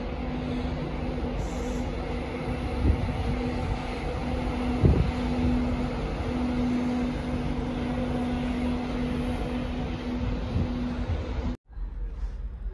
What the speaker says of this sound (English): The Flying Scotsman.